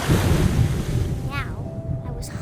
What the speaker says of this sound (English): I rolled off a cliff and into the ocean.